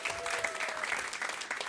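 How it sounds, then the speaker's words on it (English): A conference audience applauds after a World Bank panellist is introduced at a school meals and climate panel; dense, even clapping fills the short stretch at moderate loudness. "Please give her a round of applause."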